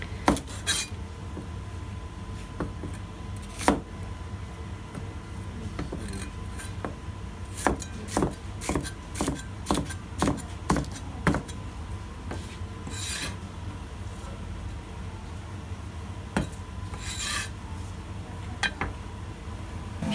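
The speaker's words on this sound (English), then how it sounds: "he cuts the larger, less tender pieces across so that they'll cook quickly" Knife slicing across the larger bok choy stems on a board, a series of crisp close chops and rasping cuts at irregular intervals over a low steady hum, no talk.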